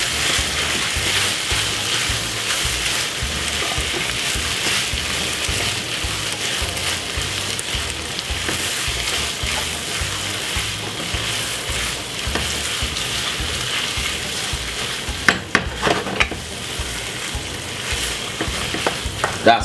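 Pasta and tuna with ketchup being stirred in a pan, a continuous close sizzle like light rain with a cluster of scraping clinks from the spoon near the end.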